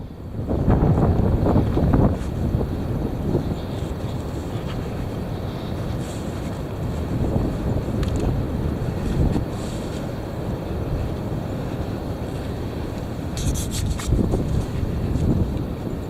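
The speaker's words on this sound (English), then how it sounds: "Here it comes. The heavy wind." Heavy wind roars steadily across the microphone outdoors, buffeting in loud gusts with a low rumble throughout and no speech.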